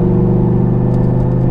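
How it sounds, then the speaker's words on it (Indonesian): A Lamborghini Superleggera V10 5200 cc engine idles with a steady, deep, loud rumble, close by and without talk. "Ini mesinnya V10"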